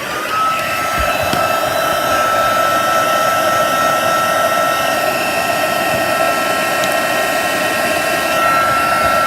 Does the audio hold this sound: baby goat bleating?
no